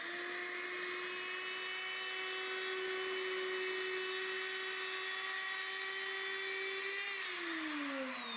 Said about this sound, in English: So the router just rides on these 2 pieces of wood, and I can move it around to cover the entire slab.